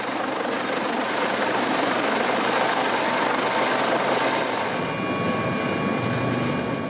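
A helicopter flying over the Port of Rotterdam, its rotor and engine roar loud, dense and steady throughout, with no talk.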